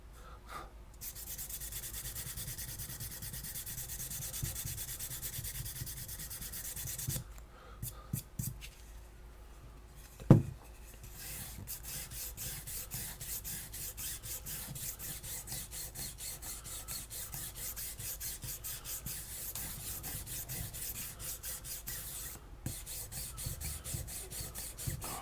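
Sandpaper rubbing on a stainless steel Byzantine weave chain, a steady scratchy rasp in continuous strokes, close and moderately quiet, with one sharp knock partway through and a short pause before the sanding resumes.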